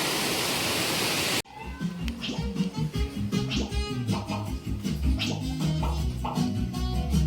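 Rainwater floods and rushes near a house, heard as a broad, continuous gush of flowing water close by, briefly hissing loudly before settling into a churning, bubbling stream.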